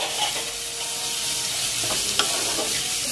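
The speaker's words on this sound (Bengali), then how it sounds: "পেঁয়াজটা একটুখানি 5-6 মিনিট একটু নাড়াচাড়া দিয়ে ভালো করে ভাজতে হবে, যাতে পেঁয়াজের কালারটা ব্রাউন কালার হয়ে আসে।" Onions frying in a pan for a Bengali chicken keema ghugni, a constant close sizzle with a few scraping stirs of a spatula partway through.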